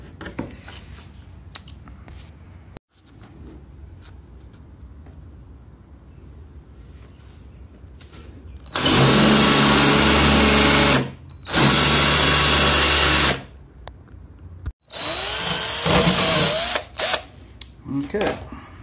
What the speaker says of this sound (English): we just cut that out with a jigsaw, and there's the notch